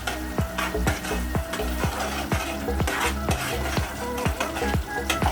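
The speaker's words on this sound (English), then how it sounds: "Stir a bit." A spoon stirs tomato paste into a sizzling egg stew for a Kenyan-style curry, with regular scraping strokes against the pan over a steady frying hiss, close and fairly loud, no speech.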